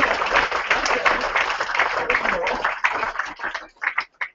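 Audience applause at a rugby league club's squad number announcement for player Steve Crossley, dense clapping that thins out and ends in a few scattered claps near the close.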